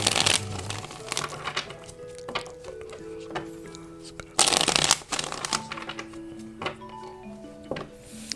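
Tarot cards being shuffled and handled up close: crisp riffles, slaps and flicks in irregular bursts, with a louder flurry midway.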